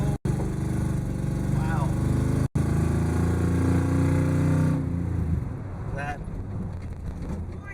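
A 1963 Chevy Impala wagon's engine drones loudly as it accelerates from inside the car, then eases off and quiets; a person exclaims briefly near the end.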